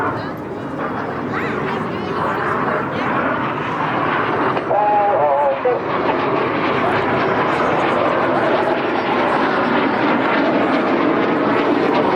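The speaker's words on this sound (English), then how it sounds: "Each aircraft once again dive down to 100 feet." RAF Red Arrows jets diving low past an airshow crowd at Blackpool, a loud sustained roar filling the air while a commentator talks over it and a dog barks briefly nearby.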